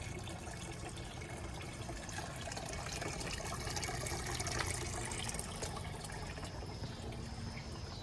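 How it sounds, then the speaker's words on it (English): A garden water fountain tucked among hydrangeas trickles continuously, a faint, steady splashing wash heard outdoors with no voices. "There is a water fountain tucked in there. You might hear that on the video."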